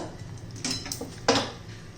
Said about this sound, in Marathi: त्याच्यात थोडे आपले ड्रायफ्रुट्स घालायचे मी काजू घालतीये एकसारखं हलवत राहायचं घट्ट होईपर्यंत